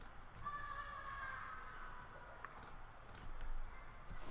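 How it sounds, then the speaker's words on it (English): Rapid light clicking of a computer keyboard as someone types Python code for an OpenCV tutorial, close and fairly quiet over a soft hiss, with a faint tonal hum partway through. "Let's start typing the code."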